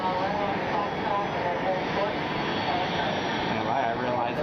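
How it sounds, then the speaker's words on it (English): Business jet arriving at Atlanta Hartsfield-Jackson airport, its jet engine a steady, loud broadband roar that holds for the whole stretch, with a voice talking faintly beneath it. "Got other business jet just came in"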